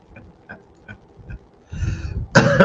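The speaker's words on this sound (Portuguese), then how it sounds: "deixa eu beber uma água aqui que eu tô com a garganta como um pigarro" A few short, gruff throat-clearing grunts from a man with a scratchy throat, close to the microphone, followed by louder rough rasping bursts at the end.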